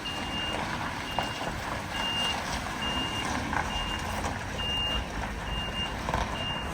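A truck's reversing alarm beeps in a steady repeating pattern over constant engine and outdoor rumble while a narrowboat is being moved off the river by crane.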